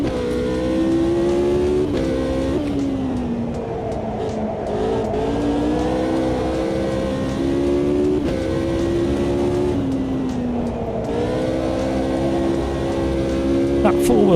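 A race car engine in an Americana sim racing game revs and shifts through the gears, its steady droning tone climbing and dropping in repeated cycles, with someone talking throughout.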